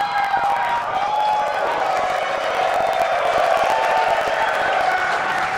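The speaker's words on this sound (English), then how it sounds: "you can tell by the excitement from the crowd here at Mission Control Center in Hawthorne" A large crowd cheers and applauds without a break at SpaceX Mission Control in Hawthorne during a Starship launch, a loud, dense and steady roar of clapping and whooping.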